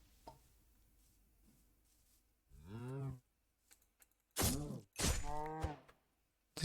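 A cow in a video game moos several times in drawn-out, groaning calls, near and moderately loud, with clicks and keyboard taps between them.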